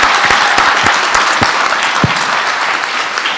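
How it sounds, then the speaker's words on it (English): A gala audience in the Amway Grand Plaza Hotel in Grand Rapids applauds at the Ms. Wheelchair America crowning, dense, steady clapping filling the room from start to finish. "Let's give them all a big round of applause."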